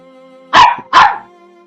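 Two loud, close dog barks sound in quick succession over a quiet background hum, heard while playing the video game Umineko When They Cry.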